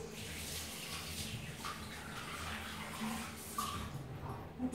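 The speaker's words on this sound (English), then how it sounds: "Just wash my hands." Tap water runs steadily into a bathroom sink while hands are washed, a continuous close hiss and splash with slight shifts in the flow throughout.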